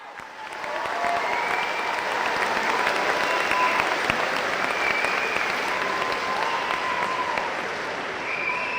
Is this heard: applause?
yes